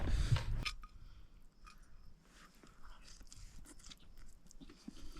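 Food is being bitten and chewed at a campsite, starting with a loud close crunch, then softer wet chewing and small crunches running on in a quiet outdoor setting.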